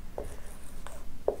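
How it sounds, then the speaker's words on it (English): A lecturer writes on a board during an engineering lesson, producing a few brief, faint scratching strokes in a quiet room. "I'll just write that down real quick"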